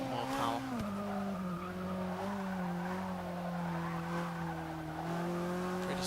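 A 2015 Volvo S60 Polestar races in Forza 6, its engine droning steadily with shifting pitch while tires squeal and skid throughout, loud and continuous with no talk over it.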